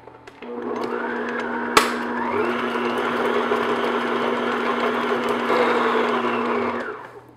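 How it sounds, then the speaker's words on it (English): An electric mixer beats butter until smooth for chocolate chip sandwich cookies, a steady loud whirring drone that runs almost the whole time after a brief start, with one sharp click near the beginning. "just beat the butter just until it gets nice and smooth"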